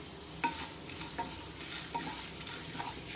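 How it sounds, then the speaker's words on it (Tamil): Mustard seeds and urad dal frying in hot oil for aval upma, a steady close sizzle with scattered small pops and crackles throughout. "கடுகு பொரிஞ்ச உடனே கொஞ்சம் உளுந்து உளுந்து வந்துட்டு இருக்கும்போது நம்ம கொஞ்சம் கடலப்பருவு போடுறோம்"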